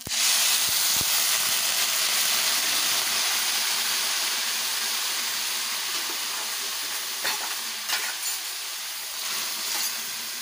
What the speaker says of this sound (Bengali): এবারে দিয়ে দেব গরম জল বাটি মেপে।